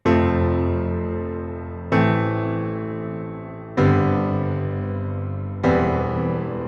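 Four sustained piano chords struck one after another at an even pace, each ringing out and fading before the next, with a steady low C pedal note held beneath.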